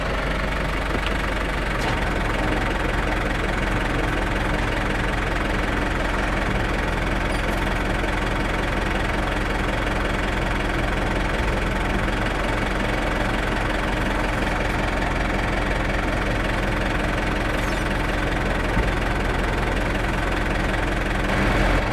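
A loud, steady, warmed-up tractor engine idles close by, with a rough low rumble and a constant knocking vibration throughout and no voices.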